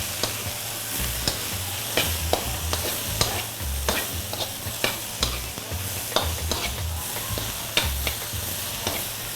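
Vegetables with tomatoes are stir-fried for veg lo mein, with loud, rhythmic stirring clatter and tossing over a constant close sizzle.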